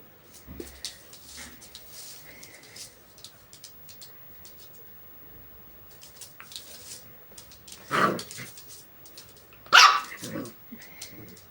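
A pet dog named Happy barks while playing with a toy dog indoors, giving a couple of loud, sharp barks amid scattered quieter rustling and movement, with a bird faintly in the background.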